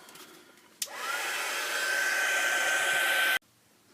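A hair dryer blows on a mixed media collage: it switches on abruptly with a click, then runs as a loud, steady close-up roar for about two and a half seconds before cutting off sharply.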